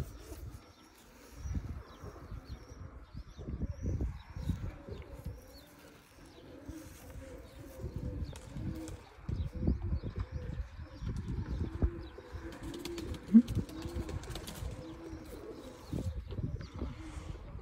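Teddy pigeons, including a female bird, give soft, low, throaty coos in repeated short phrases, close by and fairly quiet, with faint background noise and occasional light knocks.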